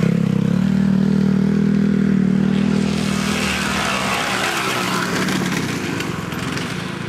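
Dirt bike racing engines drone steadily at a 2009 Coal Hollow event, a loud sustained motor hum that shifts into rougher, busier revving and clatter partway through, with no voices.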